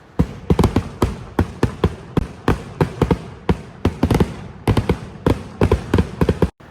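Firecrackers set off for the Vishu festival: a rapid, irregular string of sharp, loud pops and cracks, some in quick clusters, with no talking.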